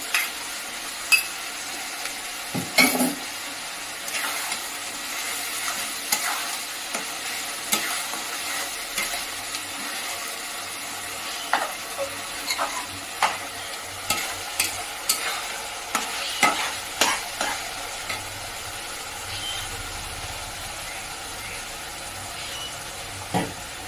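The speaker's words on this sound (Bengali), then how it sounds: "এবার এর মধ্যে আমি আদা পেস্টটা দেব" Ginger and garlic paste fries in a pan for Bengali mutton curry (kosha mangsho), a soft steady sizzle broken by repeated scraping stirs of a spatula, close and fairly loud.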